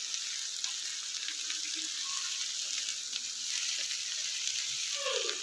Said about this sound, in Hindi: लगभग 2 से 3 मिनट तक हम भिंडी की अच्छे से भुनाई कर लेंगे।